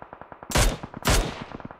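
Two heavy gunshots boom close together in Battlegrounds Mobile India, each a loud, sharp blast with a fading tail, set over a quick, softer ticking rhythm.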